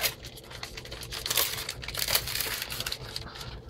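A chocolate bar wrapper crinkles and crackles as it is torn open and unwrapped, close and fairly loud, with dense bursts of rustling across the few seconds and no talk over it.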